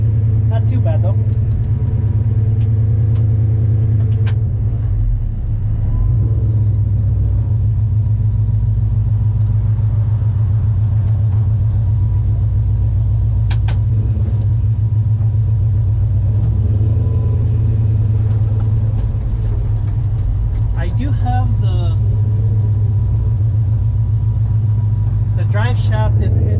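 A 1971 Dodge Challenger R/T barn find rumbles steadily at low pitch while driving, loud and continuous, with faint speech and occasional squeaks over the engine.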